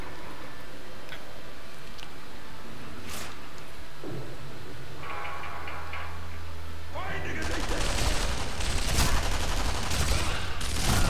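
Sustained gunfire erupts in Sniper Elite V2 as rapid overlapping shots build into a loud, dense fusillade in the second half, following quieter game ambience and a few isolated cracks, while someone talks over it.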